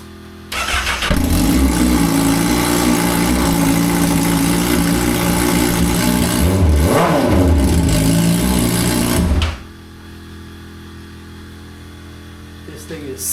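A Honda CBR1000RR sport motorcycle engine cranks and fires, idles loudly and close, blips through a few revs, then cuts off abruptly, leaving quiet room tone.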